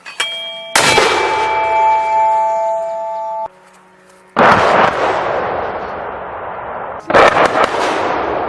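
Naval gun firing from a warship: a sharp, loud blast with ringing metallic tones that fades out, then two more heavy booming bursts, close and alone with no voices.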